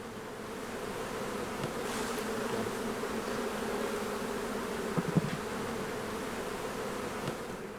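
Steady buzzing of many newly emerged young bees, a dense continuous hum close by with a few sharper passes near the microphone.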